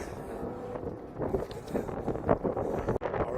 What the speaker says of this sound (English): All right guys, it's windy.